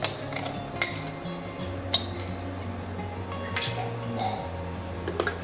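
A metal spoon clinks against a tea pot while date and milk paste is added to boiling tea, with scattered sharp taps and scrapes over a low steady hum, close and fairly quiet, no talking.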